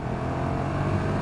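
A 2017 KTM 1290 Super Duke R motorcycle engine drones steadily at around 6,000 RPM during a downshift while riding, a continuous close engine hum with wind noise.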